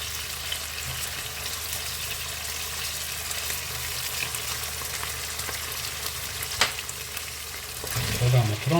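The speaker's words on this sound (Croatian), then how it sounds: "Još kratko dinstamo." Tomato sauce with a spoonful of ajvar sautés in a pot for a beef and potato soup, giving a steady close sizzle throughout, with a brief stirring clatter near the end.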